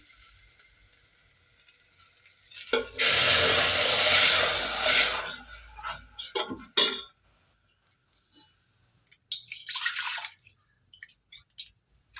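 Ground chili paste hits a hot onion tempering for a horse gram saaru with a loud, sudden sizzle that fades over a few seconds, followed by scattered clinks and stirring scrapes.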